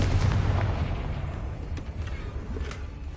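A sustained roaring blast of the Confringo fire spell in Hogwarts Legacy, a dense rumbling explosion filling the whole short moment with heavy low-end crackle and a couple of sharper pops.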